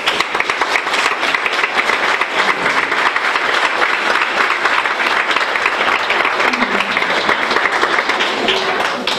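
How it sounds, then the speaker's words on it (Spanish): A town festival audience gives a loud, dense round of applause that stays steady and unbroken throughout, with no speech over it. "todos ellos hay que darles un fuerte aplauso"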